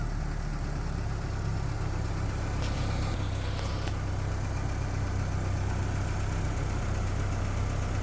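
A car engine idles with a steady low rumble and slight knock, a transmission shift into reverse happening with no voices over the constant, close hum.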